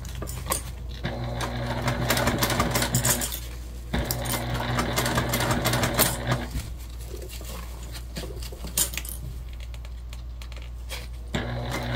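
A sewing machine stitches fabric for a small pack bag in short, intermittent bursts of mechanical whirring, close up, with fabric rustling and handling between runs.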